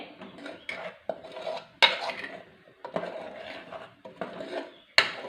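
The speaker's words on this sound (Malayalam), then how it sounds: "ഒന്ന് ഇളക്കുവാണേ." A spoon stirs Kerala-style curry in a pot with ground paste added, giving repeated scraping strokes and metallic clinks against the pot, with a few sharper knocks, all close and alone.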